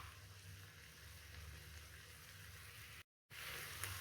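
Soya kheema mixture bubbling and sizzling in a pan, a steady, close hiss with a short break of silence near the end before it resumes.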